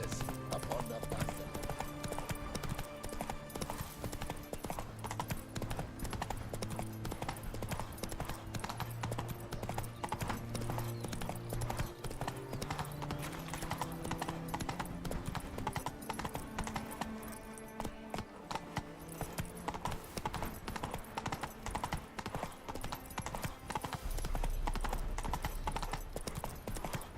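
In The Witcher 3: Wild Hunt, a horse's hooves clip-clop in a brisk, continuous rhythm close up, mixed with game ambience and soft music throughout.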